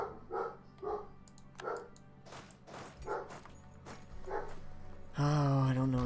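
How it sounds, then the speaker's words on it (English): A dog barks repeatedly in a steady rhythm at a moderate distance, then a louder voice or tone cuts in near the end. "Oh, I don't know what these dogs keep barking at."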